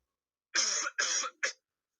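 Three quick coughs in a row, close and fairly loud, the last one shorter than the first two.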